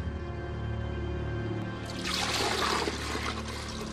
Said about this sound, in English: the water clock was refilled for the philosopher to defend himself